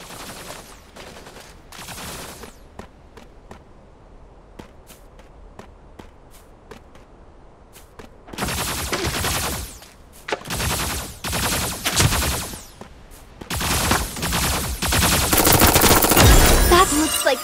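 Gunfire in Super Mecha Champions, a battle royale game: scattered single shots early on, then loud dense bursts of rapid automatic fire in several clusters, building to sustained shooting near the end.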